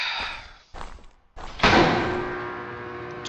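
A door opening in the video game DeadLab: a few muffled mechanical clunks, then a loud heavy thud that rings out into a long, fading rumbling tail.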